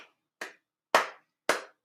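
Sparse hand clapping from an audience at a public address, four separate sharp claps spaced about half a second apart, with silence between them and no voices.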